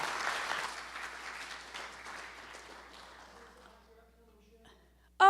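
Audience applause for a performer before her last live music set, loud at first and steadily thinning out, followed by a short burst of sound at the very end.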